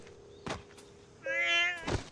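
A single drawn-out cat meow heard nearby, framed by a couple of soft thumps before and after it.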